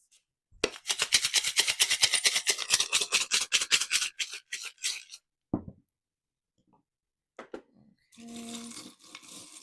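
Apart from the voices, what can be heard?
charms shaken in a bowl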